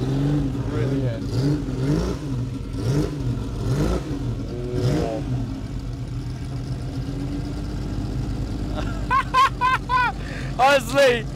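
A Ferrari 275 GTB engine revs hard on a drive, its rising and falling howl steady and loud beneath talking voices, ending with a few sharp throttle blips near the close.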